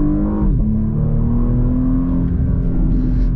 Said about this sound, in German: Auspuff plöppelt auch ein bisschen.